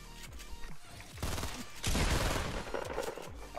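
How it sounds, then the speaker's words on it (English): Gunshots in Fortnite ring out in quick, loud bursts, with a sustained volley in the middle and more shots at the end, mixed with other game sounds and no speech. "Oh, I hear the shot."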